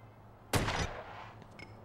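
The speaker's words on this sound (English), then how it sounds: "Give that dummy a few slugs to the chest." A single loud gunshot blast rings out in The Godfather video game on PlayStation 2, sharp and close, decaying over a quarter second into a quiet background.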